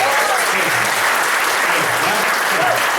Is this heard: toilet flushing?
no